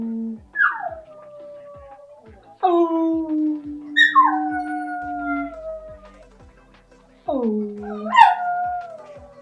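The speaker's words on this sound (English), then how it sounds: "Can you sing, puppy?" A puppy howls in long, sliding, singing wails, three drawn-out howls with short yips between them, close and clear, while a person briefly murmurs in encouragement.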